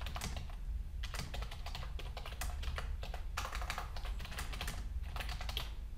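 Steady typing on a computer keyboard while working in the nano text editor on Ubuntu, quick irregular key clicks close by over a low hum, with no voices.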